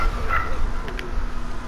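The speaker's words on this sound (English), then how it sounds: "And then I hear another dog breaking part of the wall down." Zombie dog in the 7 Days to Die video game during a horde night, barking and yipping at moderate distance over a steady low background hum, with a couple of short whimpering yelps.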